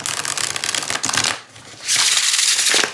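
A tarot card deck is shuffled up close in two crisp, rustling bursts separated by a short pause, with no talking.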